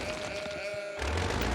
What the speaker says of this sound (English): I love how all of the sheep go inside